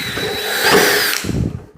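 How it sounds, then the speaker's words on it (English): A power drill whines briefly and loudly as it bores a hole through a thin metal cone made for chicken processing, the pitch sagging as it bites in, then winding down. "So just drill"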